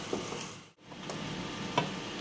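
Onion half-fried in a pan for spicy misal, a steady soft sizzle with faint clicks of stirring and a brief dip in the middle.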